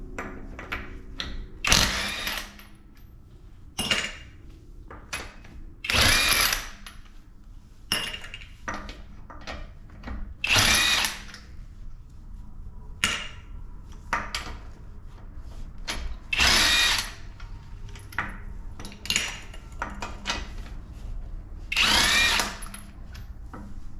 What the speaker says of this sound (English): we're going to take the lug nuts off the tire with the impact wrench and a 21mm socket